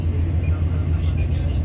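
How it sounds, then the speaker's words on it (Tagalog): Heavy road traffic heard from inside a bus, a loud steady low engine rumble with the drone of slow-moving vehicles and no clear talking. "Sobrang traffic. Ang haba-haba oh."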